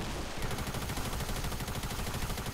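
Rapid automatic gunfire from an SMG in a Fortnite Creative zombie survival match, a dense, fast string of shots firing continuously for a few seconds, moderately loud, with no speech.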